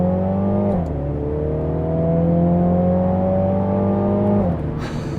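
A MINI Clubman JCW Untold Edition, about 300 horsepower with an 8-speed automatic and all-wheel drive, accelerates hard from inside the cabin, the engine note climbing steadily through a gear, with a quick shift dip before and after.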